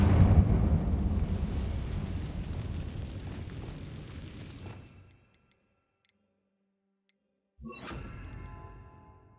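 The Incendio fire spell in Hogwarts Legacy bursts out as a roaring whoosh of flame that fades over several seconds into silence, followed by a second, shorter flare of crackling fire.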